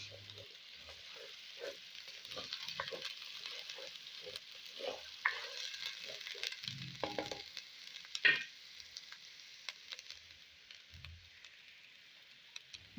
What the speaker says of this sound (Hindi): लहसुन और अदरक के पेस्ट को भी हम अच्छी तरह से भून लेंगे।